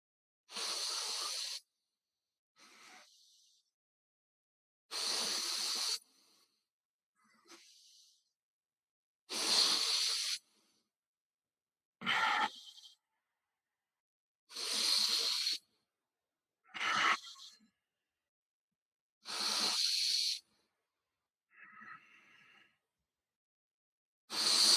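Deep breaths during a Kriya breathwork exercise, slow airy inhales and exhales repeating about every few seconds, close and fairly quiet, with silence between breaths.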